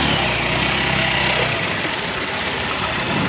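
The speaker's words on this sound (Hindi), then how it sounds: "भाई साइलेंसर पानी के अंदर और भाई की आवाज दबती हुई" Hero Xtreme 160R motorcycle engine running with its silencer submerged in water during off-roading, a loud continuous muffled drone with low burbling that thins slightly after the midpoint.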